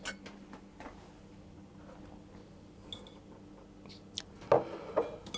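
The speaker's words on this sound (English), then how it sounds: "whisk those until they're fully combined" Eggs and sugar whisked in a bowl for chocolate banana muffins: light scattered clinks and ticks of the whisk on the bowl, sparse and fairly quiet, building to a few louder taps near the end.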